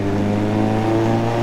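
A Suzuki GSX 1200 Café Racer motorcycle engine revs loudly and steadily, with a deep, rumbling, sustained note that holds close and alone for the whole moment.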